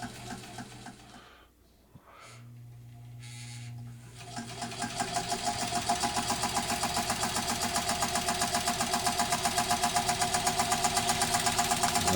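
A 1918 Singer 127 Sphinx sewing machine, freshly refurbished, starts up after a quiet pause with a few clunks. It then runs at a steady, fast, rhythmic clatter, loud and close.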